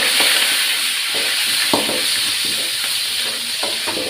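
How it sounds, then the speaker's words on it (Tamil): Green chilli, ginger, curry leaves and asafoetida fry in hot oil while being stirred: a steady, close sizzle broken by irregular scraping stirs of the spoon, with no voices. "பச்சை மிளகா, இஞ்சி, பச்சை மிளகா, கருவேப்பிலை, அடுத்தது பெருங்காயத்து இதெல்லாம் போட்டுக்கிறேன்."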